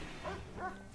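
A dog in the colony-simulation game RimWorld gives two quick, soft yips or woofs within a second, faint against steady background noise.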